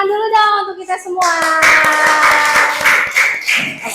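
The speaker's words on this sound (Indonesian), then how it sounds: "Tepuk tangan dulu dong untuk kita semua." A class of students claps hands in a quick, lively burst of many overlapping claps, with a teacher's voice calling out over it.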